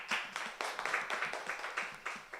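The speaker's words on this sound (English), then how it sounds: "let's just give him a round of applause" Light, rhythmic clapping from a small audience at a research week session after a speaker's talk, distinct individual claps repeating in a fairly regular beat, quiet and close.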